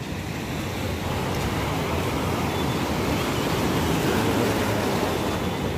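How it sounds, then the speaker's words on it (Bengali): Sea waves roll and break on the beach at Digha Mohona, where a river meets the sea, making a continuous close, loud roar of surf mixed with wind buffeting the microphone, with no voices. "আর এখানে ঢেউটা দেখো।"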